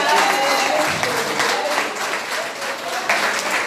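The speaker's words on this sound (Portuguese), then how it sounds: "Dá um aplauso forte." Strong applause from a church congregation after a testimony, a loud continuous wash of many hands clapping with murmured voices blended underneath.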